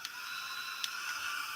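A small, cheap handheld fan runs at its low setting, giving a steady, close whir with a faint mechanical rattle and one brief click, no talk over it.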